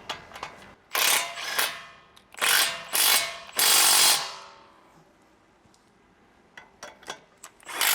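Ratchet tightening bolts while installing an ICON leveling kit on a Toyota Tacoma, several loud bursts of rapid clicking ratchet strokes with short pauses, then a few lighter clicks near the end.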